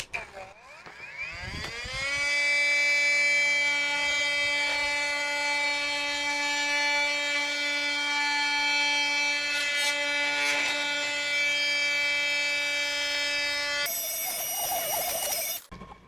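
A DongCheng DCMD20 cordless oscillating multi tool cuts through PVC pipe, giving a loud, steady high-pitched whine that holds for about twelve seconds after a brief start-up, then shifts pitch near the end as it finishes.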